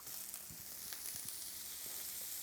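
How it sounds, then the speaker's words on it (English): Butter sizzles steadily in a hot pan of bacon fat for toasting sage and onion stuffing breadcrumbs, a constant close crackle with a few louder pops and no voices. "We're going to put some butter in as well because we're also going to toast off some stuffing breadcrumbs"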